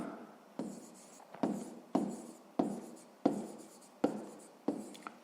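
Handwriting during a Ukrainian sixth-grade math lesson, a pen or chalk making repeated short strokes roughly every half second, close and clear with no talking.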